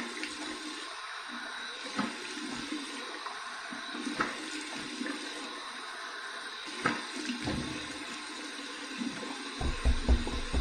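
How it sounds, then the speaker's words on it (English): Warm tap water runs steadily from a bathroom faucet during a face rinse after a shave, a continuous splashing flow with a few louder splashes near the end. "Here's my warm water rinse."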